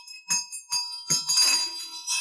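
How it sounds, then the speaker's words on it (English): A ritual bell rung during Buddhist Amitayus prayer practice gives several bright metallic strikes with ringing overtones, sounding close and clear in quiet surroundings, each ring decaying between hits. "we ring the bell."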